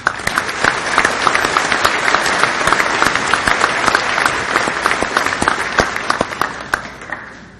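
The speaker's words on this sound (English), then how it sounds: "Please help me recognizing all of these individuals with your round of applause." A large audience at a college commencement and nursing pinning ceremony gives a loud, sustained round of applause for academic scholars, full and dense for several seconds before tapering off.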